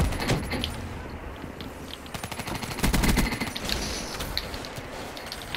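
Rapid automatic gunfire from the Call of Duty: Black Ops III video game, bursts of shots over dense game noise and clatter, loud and continuous with brief lulls.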